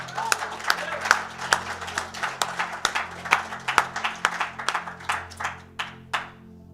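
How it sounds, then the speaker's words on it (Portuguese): A church congregation claps in a quick, steady rhythm, the claps sharp and close, with a voice or music carrying on underneath. "Vamos aplaudir Jesus."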